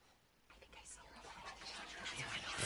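Eerie whispering drifts through a house in What Remains of Edith Finch, a soft breathy murmur that slowly grows louder over a hushed, noisy background.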